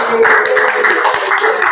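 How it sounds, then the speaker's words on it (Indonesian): A classroom of students claps for a classmate, a dense, steady patter of many hands sustained throughout at close range, with some voices mixed in. "Oke, tepuk tangan dulu buat Immanuel."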